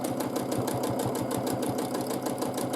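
Sewing machine quilting back-and-forth lines on a feather-patterned wall hanging, a close, steady rhythmic whir with rapid regular needle pulses throughout and no voices.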